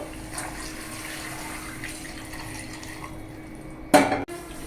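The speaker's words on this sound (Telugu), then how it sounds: "ఈ ఉడకడానికి సరిపోని వాటర్ పోసుకోవాలండి ఇందులో" Water streams steadily into a pot for chicken dum biryani, a close, continuous rush. Near the end a brief, sharp clatter breaks in.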